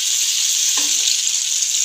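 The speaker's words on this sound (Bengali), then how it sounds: "আলুগুলো একটু হালকা ভাজা ভাজা হয়ে গেছে" Potatoes fry in a pan with turmeric and salt, a steady, close hiss of sizzling oil that carries unbroken throughout, with a brief faint scrape or stir near the middle.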